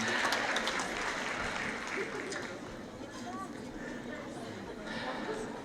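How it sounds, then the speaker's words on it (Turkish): Concert audience in a hall applauds a cover band, a steady, moderately distant wash of clapping with crowd chatter underneath that holds level for the whole stretch. "Kışlı alkışlar abayıma."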